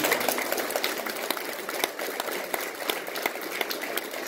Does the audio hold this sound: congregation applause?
yes